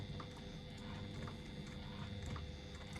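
Domestic sewing machine topstitching down either side of a seam join in fabric for a retro clutch strap, a steady low mechanical whirr with rapid needle ticking running continuously and close by.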